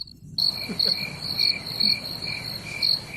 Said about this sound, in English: It was like the crickets, right?